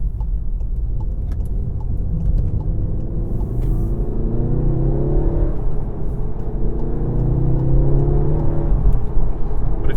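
A 2017 VW Golf R manual with a turbocharged engine revs loudly up close, its deep rumble rising and falling in pitch over several sweeps of acceleration.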